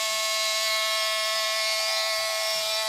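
A Bosch PMF 10.8 Li-ion cordless oscillating multi-tool runs at a constant, high-pitched electric whine. The motor stays steady and close with no load and no speech.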